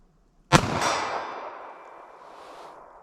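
A single .380 ACP pocket pistol shot on an outdoor range, aimed at a target 40 yards out: one sharp crack after a moment of quiet, followed by a ringing metallic ping and a long fading echo.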